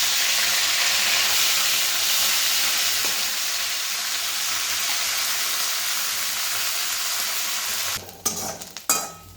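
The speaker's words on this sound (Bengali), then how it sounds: "নিমটা আমার প্রায় ভাজা হয়ে এলো" Neem leaves frying in hot oil, a steady loud sizzle and hiss, stirred, ending with a few clattering knocks of a utensil.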